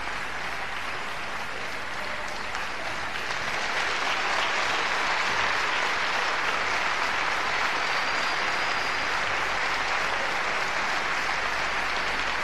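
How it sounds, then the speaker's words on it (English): A television studio audience at the 1995 Irish national Eurovision selection applauds steadily for the act chosen to represent Ireland, a dense, even wash of clapping that swells slightly and holds throughout. "Warm round of applause"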